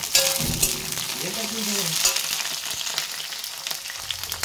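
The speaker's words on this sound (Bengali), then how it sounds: "প্রথমে পটলগুলো আমি ভালো করে ভেজে নেব।" Pointed gourd (potol) fries in a pan with a steady, close sizzle and a few stirring scrapes, while a brief voice-like tone passes early on; no speech.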